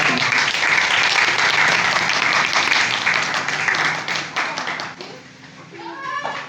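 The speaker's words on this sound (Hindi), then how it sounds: "आपकी भरपूर तालियों के साथ" Audience applause at a religious gathering, loud full clapping from a large crowd that gradually fades, with voices and a child's chatter emerging as it dies down.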